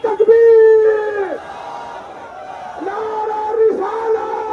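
A protest crowd in Mumbra roars back in unison after a leader's takbeer slogan, a loud massed chanted response that swells, holds, then rises again in waves, with voices layered over one another.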